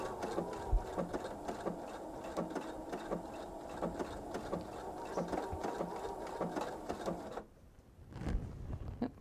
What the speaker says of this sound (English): I am going to use my fix button, which allows it to knot at the beginning of the stitch.